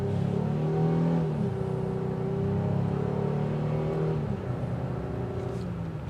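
A 2022 Honda Ridgeline pickup accelerating, its engine note droning loudly and steadily with shifting pitch that rises, dips and climbs again over several seconds, close by with no voices.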